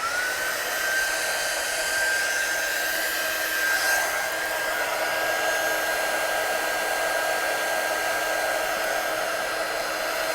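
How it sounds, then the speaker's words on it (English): A blow dryer dries watercolour on stamped artwork, a steady loud whooshing airflow running unbroken for about ten seconds with no talking. "So I'm just going to dry that off."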